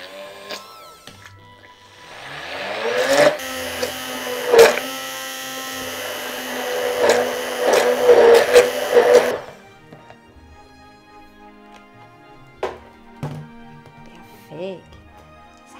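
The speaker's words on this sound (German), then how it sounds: "So, und jetzt pürieren wir das gleich einmal durch." A blender purées a cold avocado soup with chicken stock, its loud steady whine running for about six seconds after a short spin-up before cutting off, with faint knocks before and after.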